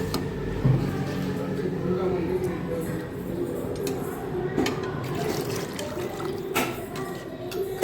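Water pours steadily into a pot of mutton biryani, a continuous splashing rush with scattered clinks, close by, while someone talks over it.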